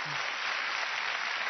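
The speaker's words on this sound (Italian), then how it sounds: "Un applauso" A television studio audience at an Italian comedy show applauds in a brief, dense, even burst of clapping that holds at a moderate level, with no speech over it.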